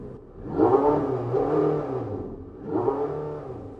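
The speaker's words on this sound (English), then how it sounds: "you turn the button to sport, and the engine fires" A Porsche 918 hybrid engine revs up twice, rising and falling in pitch, loud and close with no talk over it.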